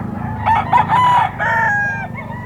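A Sweater-bloodline gamecock rooster crows once, loud and close, its call rising and trailing off over low background chatter at a market.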